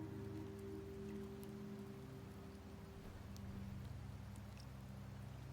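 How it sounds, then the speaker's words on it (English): Rain falls steadily in the town of Septimont in a video game, an even wash of patter under a low humming music bed that holds throughout. "The rains in Septimont never seem eager to leave this season."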